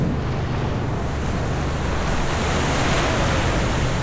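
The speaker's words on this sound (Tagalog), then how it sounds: "Ang likot, ang alon." Rough sea waves off Camara Island in Zambales crash and churn continuously, with heavy wind buffeting the microphone and a faint boat engine hum underneath, loud and unbroken.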